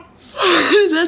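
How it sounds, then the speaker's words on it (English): One person gives a single drawn-out yawn, close and loud, rising and then falling in pitch over about a second. "That's how you know it's a real yawn, right?"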